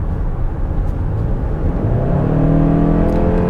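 A Honda Odyssey, Kia Carnival or Toyota Sienna minivan engine pulls hard for passing power, a loud steady cabin drone whose pitch climbs smoothly as it accelerates, with no talking.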